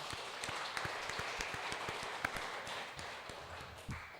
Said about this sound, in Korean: 감사의 박수를 한번 올렸으면 좋겠습니다